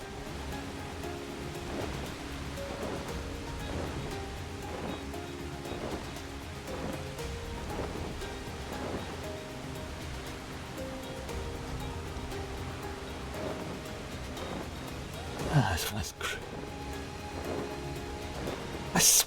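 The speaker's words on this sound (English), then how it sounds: "I swear it has rained more in this region than any other region I've ever been in the game" Steady rain from Final Fantasy XIV Dawntrail hisses as a dense, even wash over a tropical region, with no one talking and a few brief sharper splashes or clatters near the end.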